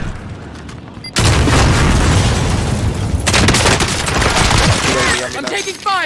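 Explosive detonating in Call of Duty Warzone, a sudden loud boom followed by heavy sustained gunfire and rumbling blasts, close and dense, ending with quieter scattered shots.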